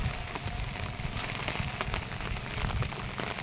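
Heavy monsoon rain pours steadily onto flooded rice paddy fields during transplanting, a dense, even hiss of drops with no talk.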